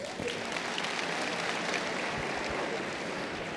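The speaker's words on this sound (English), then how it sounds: "Give yourselves a round of applause." A men's conference audience claps steadily in a dense, even wash of applause that holds throughout at a moderate level.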